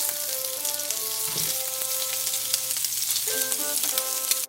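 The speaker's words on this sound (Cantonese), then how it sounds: "大火啊，然後將啲蝦咧就即係煎一煎香佢啦" Shrimp sizzle steadily in a pan over high heat, a dense, continuous crackling hiss that stays loud and even throughout.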